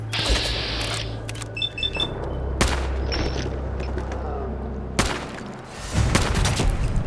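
Gunfire in a post-apocalyptic robot vault video game, with sharp shots near 2.6 s and 5 s over a steady mechanical hum and scattered clanks, fairly loud throughout.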